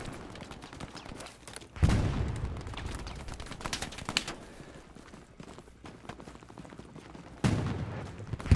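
Gunfire in the Hell Let Loose war game, with bursts of machine gun shots and scattered single cracks at moderate distance, sharp loud reports standing out at two points against quieter background firing.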